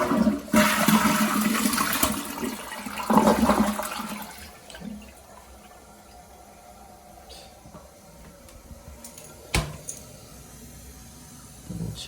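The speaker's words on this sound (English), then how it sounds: "Go ahead and flush." A toilet fitted with a Bemis bidet seat flushes in a loud, rushing surge of water that gradually fades into a quieter refill trickle, with a couple of brief clunks afterward.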